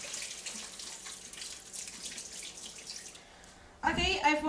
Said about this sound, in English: before starting to wash these potatoes